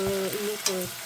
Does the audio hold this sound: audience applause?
no